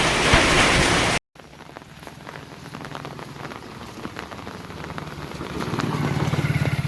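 Steady rain pours onto surfaces during a sudden storm, loud and close, broken by a short silent gap before the downpour resumes and swells again toward the end.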